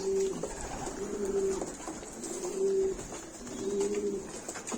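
Pigeons coo in low, throaty phrases, repeating every second or so over a steady background hiss.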